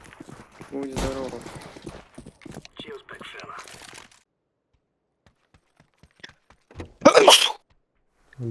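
A single sharp, loud sneeze bursts out near the end, close to the mic, after a stretch of quiet murmured talk and faint rustling.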